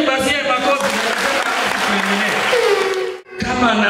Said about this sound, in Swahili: Pigieni basi ya makofi.